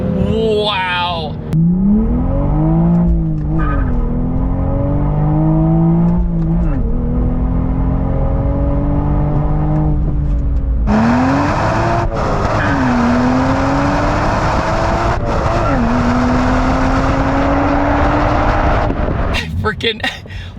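A 2023 Toyota Supra with a manual gearbox is driven hard. The engine revs climb and drop repeatedly through loud, close gear changes, with rising whine and brief dips between shifts, ending in a sharp burst of noise.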